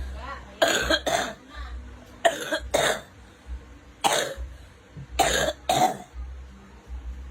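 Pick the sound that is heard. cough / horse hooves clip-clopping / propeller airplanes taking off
cough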